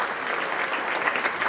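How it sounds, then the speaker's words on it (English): An audience applauds the event MCs with a steady, dense burst of clapping from a crowd indoors, continuous and fairly loud throughout. "Round of applause for them."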